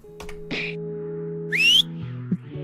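A character in the video game Felvidek whistles a short tune, a few clear rising and gliding notes over a faint sustained musical drone, with no speech.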